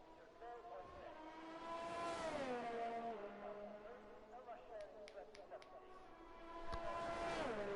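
An F1 car on a hot lap at the Italian GP in a racing video game: a high, whining engine climbs and drops through its gears, loud and up close, with a voice talking over it.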